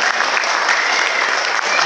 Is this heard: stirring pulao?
no